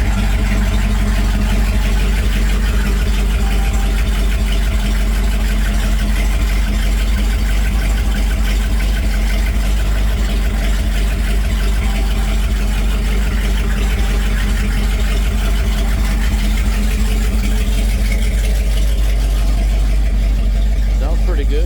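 A 1955 Chevy Bel Air convertible's V8 idles loud and close on straight pipes with no exhaust, a deep, constant rumble holding steady throughout.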